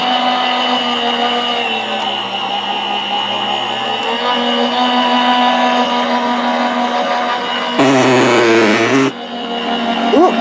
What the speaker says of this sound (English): You have to turn it on and run it through the machine.